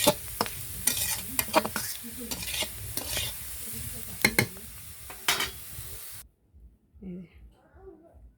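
Papaya stir-fried in a pan with a spatula, rhythmic scraping and stirring strokes over a steady sizzle, close and fairly loud, then the frying drops away near the end leaving faint background sounds.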